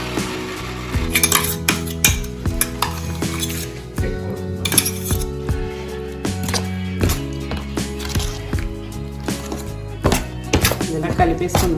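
Tomato and red chili chutney being mixed by hand in a bowl, with repeated clinks, taps and thunks of a utensil against the bowl in an irregular rhythm, close and fairly loud.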